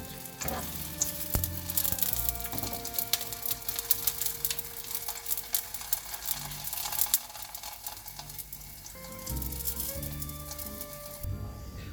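A piadina romagnola flatbread cooks in a hot pan with a steady, close sizzle and crackle, along with faint tonal hums and occasional clinks.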